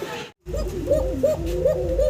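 Fancy pet pigeons, a red-coloured runner breed, coo in repeated close, steady low calls after a brief gap, with no talking over them.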